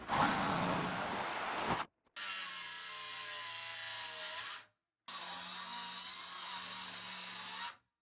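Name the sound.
cutting the ends off a solid wood board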